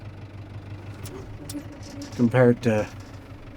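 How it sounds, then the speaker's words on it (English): Farm tractor idling nearby, a steady low engine rumble running throughout, with someone talking over it toward the end. "this is the thing I like about this tractor"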